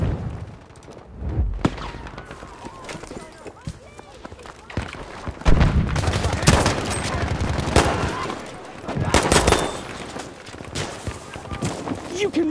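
Battlefield V gameplay fills with bursts of gunfire and rattling machine-gun fusillades, loud and close in uneven clusters, with thumps and in-game voices mixed through the action.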